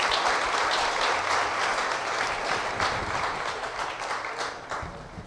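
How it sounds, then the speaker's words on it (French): A crowd at a certificate ceremony applauds the minister, with steady dense clapping that holds for several seconds and gradually thins out near the end. "Applaudissez le ministre, s'il vous plaît."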